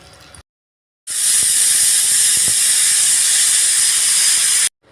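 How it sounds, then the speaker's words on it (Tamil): A stovetop pressure cooker cooking chicken kulambu lets out a loud, steady hissing jet of steam that runs unbroken for several seconds after a brief silence, with no talk over it. "இப்போ மூடி போட்டு குக்கர் 2 விசில் விட்டு இறக்கலாம்."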